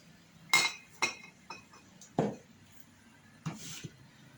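Glass jars, washed and prepared for pickling wild purslane, clink together as they are picked up, giving a few sharp close taps with quiet gaps between them.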